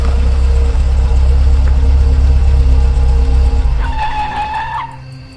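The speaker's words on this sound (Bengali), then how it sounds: "ইঞ্জিনে জল ঢুকে গাড়ি বন্ধ হয়ে যায় বারবার" A cartoon car engine rumbles loudly in the rain and then sputters out, its low drone cutting off abruptly before a brief tonal whine trails away to near silence.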